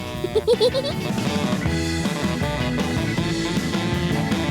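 Etawa goats bleat in a pen, a few quick wavering cries near the start, set against a busy steady background of music-like tones.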